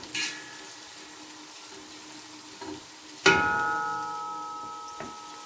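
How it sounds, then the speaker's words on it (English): Quiet, steady sizzling of onion and sausages frying in a pan, with a couple of clinks and a louder stir partway through. "So I'm frying my onion and sausages first"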